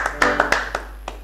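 A church congregation at a Sunday service claps in acclaim of the names, with scattered sharp hand claps in an uneven rhythm over low room tone, fairly near and moderately loud.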